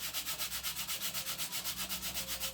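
Rhythmic back-and-forth hand sanding of a wooden model ship hull with sandpaper, steady strokes about six per second, close and continuous with no talking.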